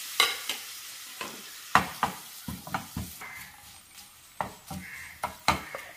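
Papadam crisping in oil in a pan: quiet frying hiss broken by sharp clanks and scrapes of a utensil against the pan at an irregular pace, close up, with no speech.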